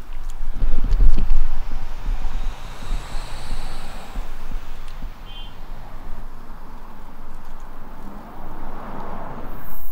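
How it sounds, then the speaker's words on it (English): Steady wind on a hilltop by a churchyard in Pyrford, England, buffets the microphone with low rumbling gusts, strongest early on, then a constant whooshing roar throughout. "bit windy up here because we're up on a"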